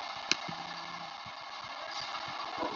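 A bus engine idles in a Roblox video game, a steady mid-pitched hum with faint rhythmic thrumming and a single sharp click near the start.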